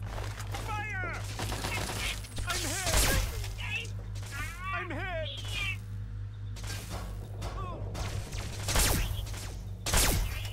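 Gunfire in the video game Fallout 3, sharp bursts of shots scattered through the clip, mixed with game sound effects and a steady low hum, with a voice talking over it.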